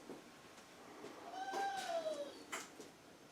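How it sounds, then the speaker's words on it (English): A pet dog named Baby whines in the background, a single rising-and-falling high whimper near the middle, faint and somewhat distant over a quiet room hum. "That's our dog baby doing that."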